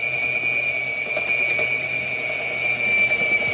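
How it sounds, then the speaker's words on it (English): An electric mixer whirs steadily through banana bread batter, a constant motor drone with a high whine, close and continuous with no talking. "we're just gonna use a mixer."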